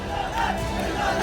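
A large Hindu protest crowd fills a street in Guna after violence on Hanuman Jayanti, its many voices merging into a dense, continuous roar of angry shouting that holds steady and loud throughout.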